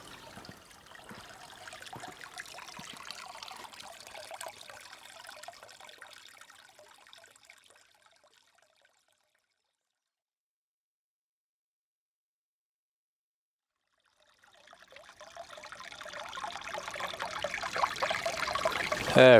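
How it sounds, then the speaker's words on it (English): Mineral water flows steadily at Hwangnyeong Observatory in Busan, a close, even trickle that fades to silence midway, then swells back louder. "I'll fade out to the sound of the water flowing."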